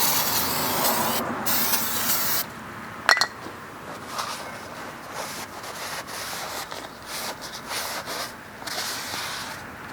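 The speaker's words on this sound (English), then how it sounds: "now get your new rotor, and you usually want to spray it off" Cleaner sprays in a loud, hissing burst onto a new rear brake rotor for a 2011-2017 Honda Odyssey, then gives way to quieter rubbing and a light clink, with no speech.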